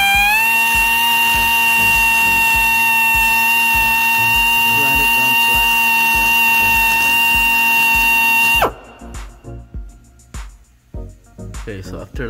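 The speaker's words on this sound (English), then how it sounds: "Grind it down flat." A diamond cutter grinds metal flat on a 2011 GMC Terrain: a loud, steady high-pitched grinding whine runs for about nine seconds, then cuts off abruptly, leaving scattered clanks and quieter handling noises.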